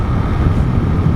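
A brief, steady low drone comes from a 2015 Honda CG 150 Fan ESDi motorcycle engine, loud and close, holding a constant idle rumble with no voices.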